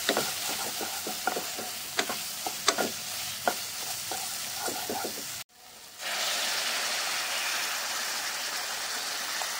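Okra curry sizzles in hot oil in a pan, a constant crackling hiss with scattered taps of a stirring spoon, then after a brief dip a denser, smoother hiss takes over, close and steady.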